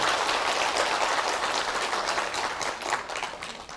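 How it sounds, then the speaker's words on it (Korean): An audience at a 2016 missionary training conference claps steadily and densely throughout, a sustained wash of applause with no speech over it. "먼저 우리 최경 부장님 잠깐 한번 인사하면 박수 한번 좀 주시면 감사하겠습니다."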